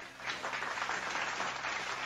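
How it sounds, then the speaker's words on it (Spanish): Soft, continuous clapping, as from a small group or distant audience, runs steadily for a couple of seconds at low volume. "Y eso merece un aplauso."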